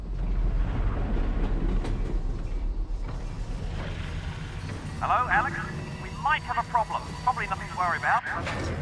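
Creaking, clanking train mechanisms as a train jams and grinds to a halt in Half-Life: Alyx, with intermittent metallic rattles and squeals under voices talking.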